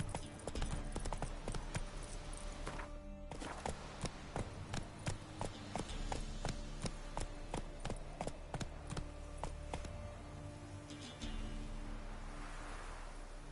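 A horse gallops in The Witcher 3, its hooves striking in a quick, steady rhythm of close, loud thuds over a low ambient bed, easing briefly near the end.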